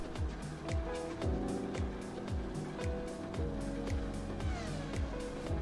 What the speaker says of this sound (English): The car's driving past the background sounds cool.